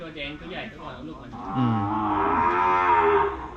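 A large Brahman cow lows at a cattle sale, a deep drawn-out moo that swells and holds for a couple of seconds, close and loud, preceded by a softer lower call.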